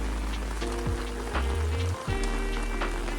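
Heavy downpour in the old town of Gjirokaster, Albania, a steady dense hiss of rain on stone streets and shopfronts, with a low rumble and a few louder splashes or knocks breaking through.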